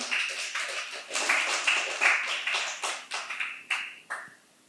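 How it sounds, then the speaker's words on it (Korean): A church congregation at a Friday worship service claps in response to the pastor, a burst of close, uneven hand claps that swells and fades in several waves before trailing off into quiet. "그렇게 한다고, 옳다고 생각하면 박수하세요."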